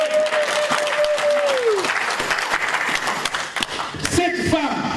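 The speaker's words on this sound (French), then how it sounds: "On acclame notre Dieu" A church congregation claps and cheers in praise, a dense burst of applause with voices rising over it and talk mixed in.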